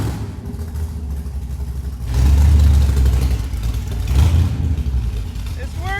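Engine of an '85 C4 Corvette built into a kart revs up loudly while driving, with a strong low rumble swelling around two seconds in and again near four seconds, while people talk nearby.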